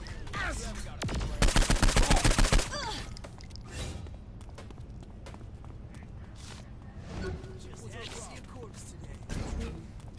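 Automatic gunfire in the video game Far Cry rattles out in one loud, rapid burst of about a dozen evenly spaced shots, followed by quieter in-game thumps and background noise.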